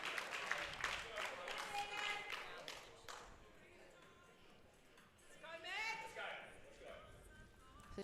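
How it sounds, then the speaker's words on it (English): A crowd at a women's powerlifting nationals cheers and claps during a deadlift attempt, bursts of applause and shouting rising and falling, with an announcer talking over parts of it. "Crowd getting behind her."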